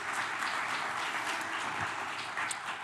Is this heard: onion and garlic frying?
no